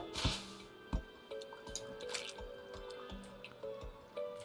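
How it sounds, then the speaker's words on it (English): Water splashes and drips in the video game Terraria as a character falls into water, heard as a few soft squishy drip and splash sounds over steady game music tones, fairly quiet. "Oh, I fell in water."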